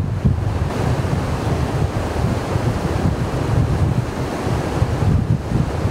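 White-water river rapids pour over a big ledge in Canada's northern wilderness, making a loud, constant, close rush with wind buffeting the microphone.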